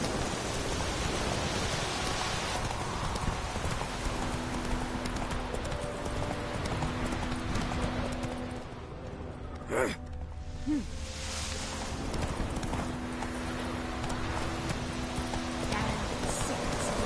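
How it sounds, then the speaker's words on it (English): Hooves of a horse galloping at a steady clip-clop in The Witcher 3, a continuous rhythmic drumming under wind-like noise, close and fairly loud for the whole stretch. "Run, Roach"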